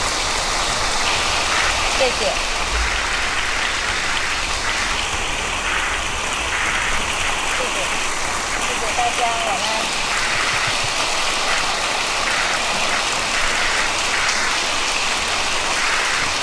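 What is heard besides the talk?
audience applause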